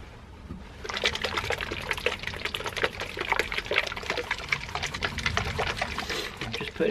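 Lube being applied and the cassette spun on a bicycle, giving a steady wet, trickling and clicking texture that sounds close and moderately loud, with no talk.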